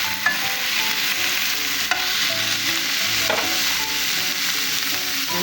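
Seasoning and potatoes sauté in a hot pan, giving a continuous loud sizzle with a few scraping stirs and light taps of the utensil, and no talking.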